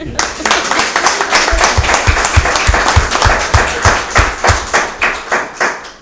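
An audience at a book promotion claps in a lively burst, with many hands and some sharp, rhythmic thumping claps close by, while voices murmur under the applause.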